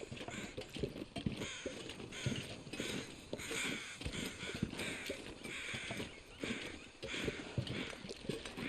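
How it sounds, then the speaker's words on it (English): Crows caw near a deer carcass in the survival game The Long Dark. The harsh calls repeat over a steady, rhythmic crunch of footsteps, fairly quiet throughout. "I hear crows. Should I hear crows? Yes, because there's a deer carcass by it."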